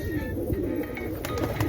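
Pigeons coo in low, repeated throaty calls against a steady background hum, with a few faint chirps mixed in.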